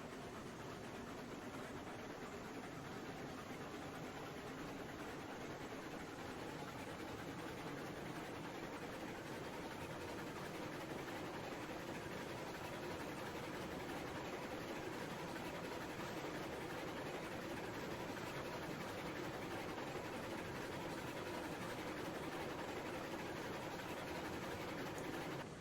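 A train rolling along the track in the video game Railroads Online, with a steady, continuous rumble and faint rail noise at moderate level that holds throughout, with no talking.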